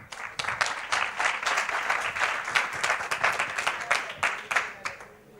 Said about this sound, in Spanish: por favor dale un súper aplauso a Yuri.